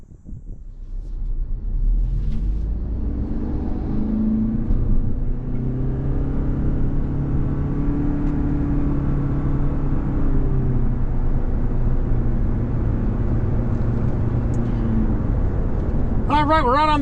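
A 2026 Toyota Prius Nightshade PHEV cruises on the highway at about 65 mph, with a loud, steady cabin rumble of road and tire noise and a constant whir throughout, and a voice briefly speaking near the end.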